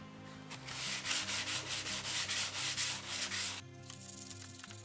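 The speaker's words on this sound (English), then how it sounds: "Let's sand some more." Hand sanding of clear coat on an Audi A7 body panel: close, rhythmic back-and-forth rasping strokes in a steady even cadence, shifting to a lighter, finer scrub near the end.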